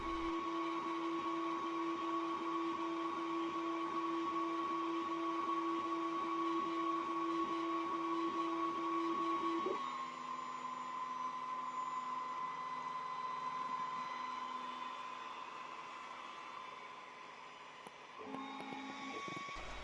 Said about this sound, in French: Je lance un nouvel essai, mais cette fois-ci je baisse la puissance pour le texte et j'augmente la puissance pour la découpe